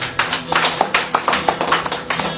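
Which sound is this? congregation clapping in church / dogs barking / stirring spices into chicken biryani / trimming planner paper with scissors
congregation clapping in church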